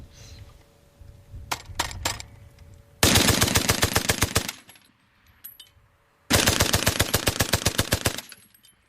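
Water-cooled machine gun of the kind used at the Battle of the Somme, firing at about 500 rounds a minute: two loud, long bursts of rapid, evenly spaced shots, with a few scattered single cracks and mechanical clatter before them.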